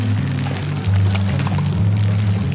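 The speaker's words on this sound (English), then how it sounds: "You'll see that now it's clear water coming out and being pumped." Clear water being pumped up and out through an outlet hose, a steady gushing pour over a loud, low droning pump hum that shifts pitch now and then, constant throughout.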